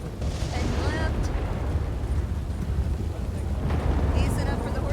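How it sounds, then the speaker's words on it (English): Loud thunder rolling through a stormy scene in the Red Dead roleplay game WildRP, a broad sustained rumble that persists throughout with brief sharper bursts. "that thunder is loud"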